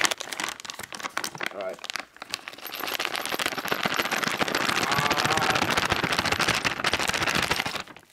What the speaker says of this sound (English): Loving it, the bubble wrap.